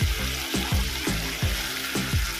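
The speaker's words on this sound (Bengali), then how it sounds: "এবার দেবো এখানে টক দই ফেটানো।" Whipped sour yogurt hits a hot pan for doi pabda curry, giving a steady close sizzle with several sharp stirring bursts spread across the clip and no talk.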